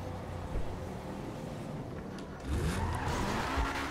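A Vision GT hypercar drives in GTA 5, its engine a low rumble with tire skids and road noise that grow louder partway through.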